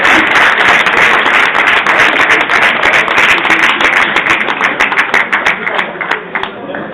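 Audience applause for a women's team at a trophy ceremony: dense, sustained clapping from a crowd, loud and steady throughout, with individual claps standing out as it thins slightly near the end.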